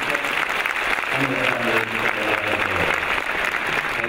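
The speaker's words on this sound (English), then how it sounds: "please join me in giving a round of applause to the graduates with their families" Audience applauding graduates and their families at a university graduation ceremony in Hanoi, dense sustained clapping throughout, with someone speaking over it near the start.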